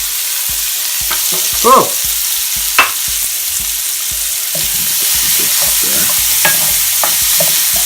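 Shallots and apples hitting a hot pan for an apple honey sauce with pork chops, a loud continuous sizzle with scraping stir strokes throughout and a brief exclaimed voice.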